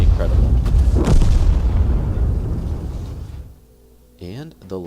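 A tank being destroyed by gunfire in World of Tanks: a loud, booming blast with a long rumbling decay that fades away, followed by brief electronic game tones at the end.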